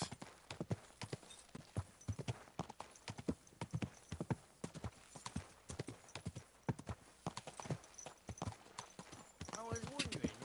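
Horse hooves clip-clop in a brisk, close, uneven rhythm, a whinny rising near the end, while a person speaks to the animal.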